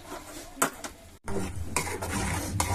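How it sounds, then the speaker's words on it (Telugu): Ginger-garlic paste frying in a pan for an eggplant curry, stirred with a utensil: a steady sizzle under repeated scraping and clinking strokes against the pan, heard close. "అల్లం వెల్లుల్లిపై పేస్ట్ వేసాం కదా అది పచ్చివాసన లేకుండా వేగించుకుందాం"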